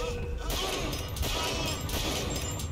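Gunfire and combat noise in the BioShock Infinite video game, a steady wash of impacts and crashing shots with brief sharp hits, fairly quiet and continuous throughout.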